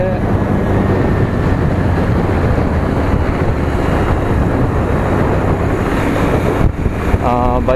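A Bajaj Pulsar 125 motorcycle runs in third gear, its engine buried in loud, constant wind rush against the microphone, a dense roaring blur with a faint tonal hint near the end.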